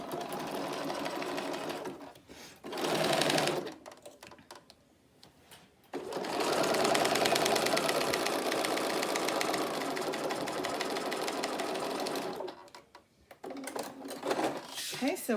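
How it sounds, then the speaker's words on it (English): A domestic sewing machine fitted with a walking foot stitches a quarter-inch seam through plastic, running in steady rapid bursts with short pauses between passes, close and fairly loud. "I put my plastic on top and use my walking foot, because my walking foot just walks over this plastic really nicely."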